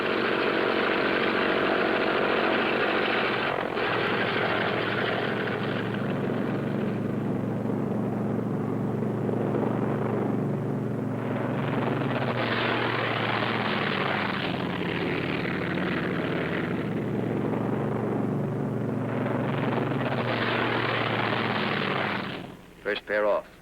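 A pair of Thunderbolt aircraft roars through a takeoff, a loud sustained broadband engine rumble that swells and shifts over about twenty seconds before cutting off abruptly at the end.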